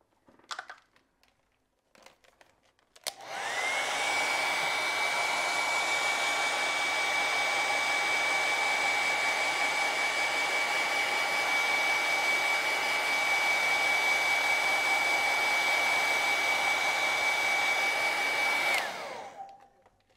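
Hair dryer blowing on acrylic paint, switched on after a few soft handling noises and running as a steady, loud whooshing whine for about fifteen seconds before cutting off.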